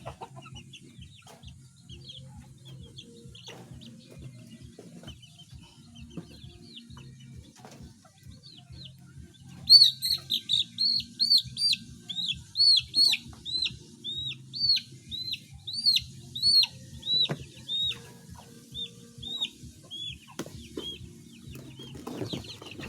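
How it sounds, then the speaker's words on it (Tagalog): Young chicks raised as backyard poultry peep in a quiet pen, with faint soft sounds at first, then a run of loud, repeated high peeps and clucks close by from about ten seconds onward. "Ito ating mga alagang sisiw."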